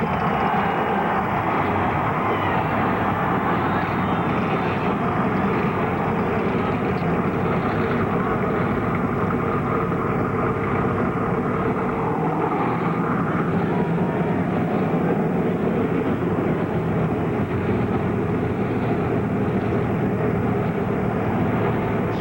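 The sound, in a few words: NASCAR Busch Series race car engines running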